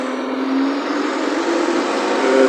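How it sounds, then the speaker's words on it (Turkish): A 2016 Case 110 tractor engine running steadily during oat sowing, a loud, continuous mechanical drone with a faint whine, holding an even level with no talk. "Traktörümüz Case 110'luk 2016 model."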